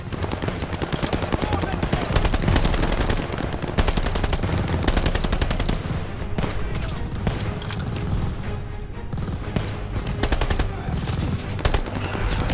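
Sustained machine gun fire from Call of Duty: Vanguard during a battle against half tracks: rapid rattling bursts with dense overlapping gunfire, booming impacts and shouted voices under the din.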